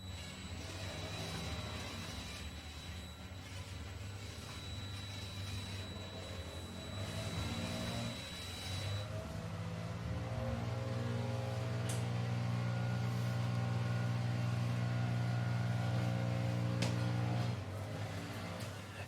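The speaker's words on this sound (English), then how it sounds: "I'm going to turn the engine over and we'll see if our valves are operating correctly here." A Kawasaki Mule 500 engine, opened up for a valve adjustment, is turned over, making a steady mechanical drone that grows into a sustained humming whine for several seconds. No one speaks.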